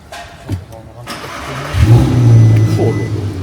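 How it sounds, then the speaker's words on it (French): A sports compact car engine starts: a few quiet clicks and a brief crank, then it catches and settles into a loud, close, steady idle with a slight rev. "Ce qu'on va faire, c'est qu'on va démarrer la voiture."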